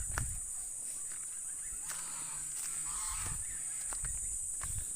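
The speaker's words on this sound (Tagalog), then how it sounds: "So, yung gansa namin." Domestic geese raised at home honk a few times at moderate distance, sitting over a steady high-pitched buzz and scattered outdoor knocks, with no talking.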